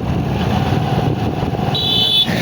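Close, steady engine drone of a motorbike carrying three riders along a village road in India, with wind noise over the running motor and a short high electronic tone near the end.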